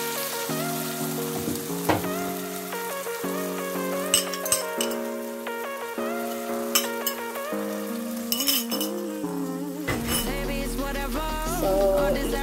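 An egg frying in a pan for an ampalaya (bitter melon) dish, a steady sizzle under loud background music, with occasional light clinks of a utensil against the pan.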